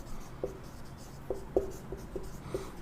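Chalk on a classroom board: a quiet string of short taps and scratches, spaced irregularly as letters are formed, over a faint room hiss.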